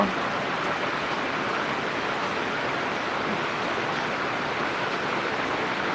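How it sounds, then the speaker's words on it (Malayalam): Heavy rain falls outdoors in an even, unbroken hiss and roar of moderate loudness, steady for the whole stretch with no clear voices. "ഇവിടെ നല്ല മഴയാണ്"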